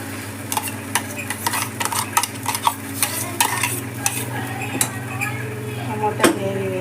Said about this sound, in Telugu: టమోటా గ్రేవీ వేసేసుకొని కలిపేసుకుంటాం